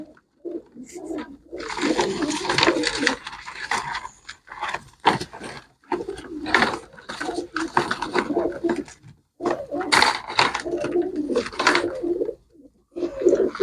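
Pigeons kept for sale by a Punjabi breeder coo and flutter close by, a busy stretch of soft throaty calls mixed with wing rustles and cage movement, loud and near, with short pauses between bursts.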